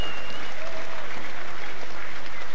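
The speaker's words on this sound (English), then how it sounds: "A big round of applause there for the captain of the victorious Meath minor team, Ender McManus from Dunboyne." Crowd applause at a Meath Gaelic football match, honouring the captain of the victorious minor team; a dense, steady clapping from a large crowd heard throughout.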